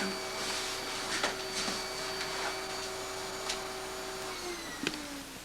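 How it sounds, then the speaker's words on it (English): A vacuum cleaner works over a tatami mat indoors, a steady whining motor tone with scattered clicks and bumps as the nozzle moves, its pitch dropping slightly near the end. "Vacuuming the tatami mat"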